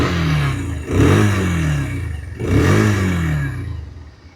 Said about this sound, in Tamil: இப்போ ஸ்டார்ட் பண்ணியுமே வந்து பார்ப்போம் நமக்கு அந்த நோட் எப்படி இருக்குது அப்படிங்கிறத